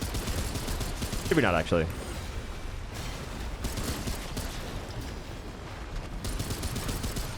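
Gunfire in the video game Remnant 2, rapid clicky shots repeating across the stretch at moderate loudness, with a brief spoken remark near the start.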